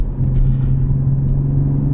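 Engine and exhaust of a 2020 Toyota Supra 3.0 on a back-road drive, a steady loud low rumble and drone heard from inside the car, with no talking.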